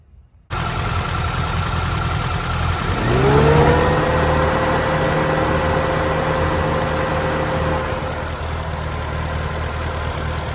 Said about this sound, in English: we're gonna crank up the car and see when the fans turn on